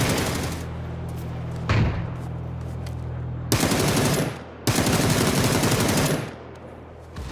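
Automatic gunfire in a shooter video game, with long rapid bursts of close, loud firing broken by short pauses and a single heavy shot, all set against a steady background hum and with no talking.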